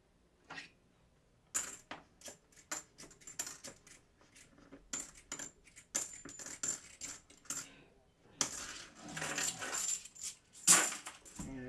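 Half dollar coins pour out of an opened coin roll in a string of sharp metallic clinks and jingles, some clustered and some spaced, close and fairly quiet against near-silence.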